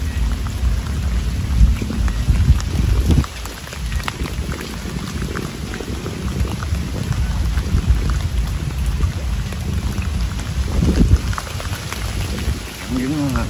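Light rain falls on a rainy day in the Mekong Delta countryside while a fishing net is hauled in, making a steady, dense hiss with occasional low rumbles throughout.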